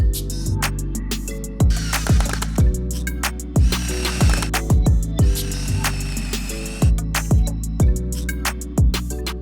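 A power driver sinks 2.5-inch wood screws into 2x4 boards in a series of close, short motor bursts, each whirring and winding down in pitch, separated by brief pauses.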